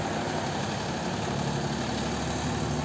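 Tractor engine running steadily while stones are loaded into its trolley, a constant loud low diesel drone with even vibration and no pauses.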